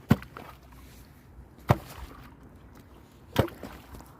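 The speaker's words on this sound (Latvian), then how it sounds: "Lai pārlaustu kārtaino ledu" Heavy tools strike thick layered ice on a frozen lake before an ice swim, three loud isolated chopping impacts spaced well apart, near and alone over quiet outdoor background.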